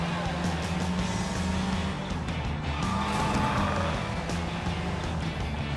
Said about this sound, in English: Now we got a car chase.